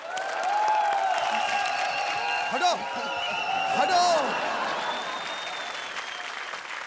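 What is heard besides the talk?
audience applause welcoming performers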